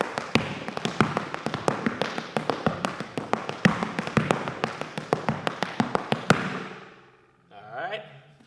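Irish hard-shoe dance steps with trebles, heel drops and tip diddlies, a fast rhythmic series of sharp, close taps on a hard floor that stops abruptly, followed by a short burst of talk.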